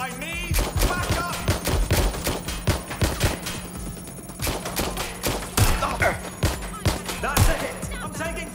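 Sustained gunfire from the Watch Dogs: Legion video game, with rapid bursts and repeated loud shots crackling densely for the whole stretch, while voices shout in the background.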